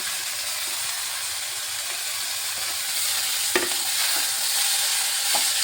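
Cabbage, capsicum and other vegetables stir-frying with ginger in a hot pan give a continuous loud hissing sizzle with a few sharp clatters of stirring, heard alone with no voices.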